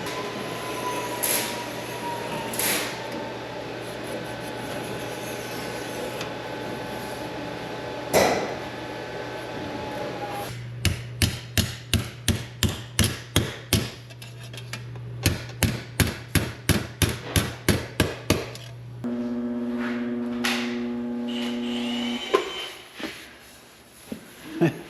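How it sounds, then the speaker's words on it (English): Hammer blows fold a new sheet-metal lip over on the trunk of a 1966 Impala SS, a long run of sharp, evenly spaced metallic strikes in a quick rhythm, close and loud over a steady background hum. "We're going to make a piece with the new lip that we hammer over."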